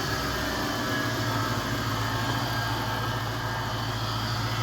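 A Toyota 3UZ V8 in a UCF30, started by bypassing the starter relay with a piece of wire, idles with a steady, even rumble that stays constant and fairly close throughout.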